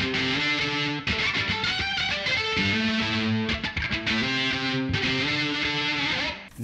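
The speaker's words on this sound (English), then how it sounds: "So if you need a distortion sound" An electric violin plays a heavily distorted, sustained melody through a Boss DS-1 distortion pedal at an extreme setting, loud and continuous with short breaks, no voices.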